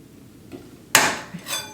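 A pry tool pulls a brad nail out of drywall: a sharp scraping snap followed by a short grinding tail and a second lighter scrape, close and fairly loud.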